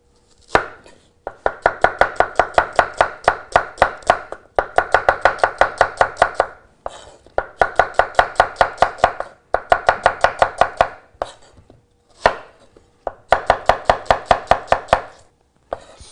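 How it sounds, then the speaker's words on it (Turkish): Rapid knife strokes julienne-cutting onions on a board, loud and close, coming in quick even bursts of a dozen or more chops separated by short pauses. "Soğanları jülyen kesiyoruz."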